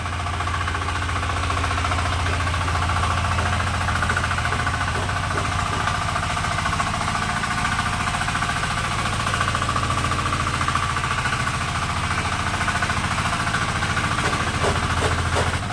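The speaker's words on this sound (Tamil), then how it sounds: "கிளச்சை விட்டோன்னே வண்டி அப்படியே ஃபார்வேர்டில் வரும்." Power weeder fitted with a seat attachment, engine running and moving forward in gear: a steady, loud, knocking mechanical drone that continues without a break, no voices.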